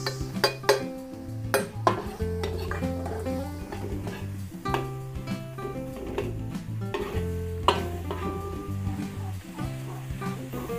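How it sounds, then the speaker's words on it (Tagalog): Garlic and onion sauté in a pan, a continuous sizzle broken by repeated close clinks and scrapes of a spatula against the metal, with a low hum underneath. "Luluto-lutuin lang po natin yung bawang."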